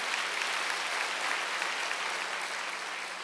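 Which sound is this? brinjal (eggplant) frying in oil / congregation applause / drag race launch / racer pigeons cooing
congregation applause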